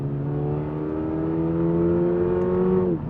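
A 2022 Subaru BRZ's engine revs steadily while driving, its tone climbing slowly and holding before cutting off abruptly near the end, loud and close with no talking.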